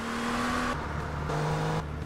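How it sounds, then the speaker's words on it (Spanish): A sports car engine in GTA Vice City Stories revs hard in two sustained surges with a steady pitch, loud and close, with no talking over it. "Escuchen el motor de esto."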